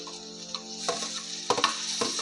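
Tomatoes frying in a pan for rice flour upma after chili powder, turmeric and salt, giving a steady soft sizzle with a few brief stirring clatters and spoon knocks near the end.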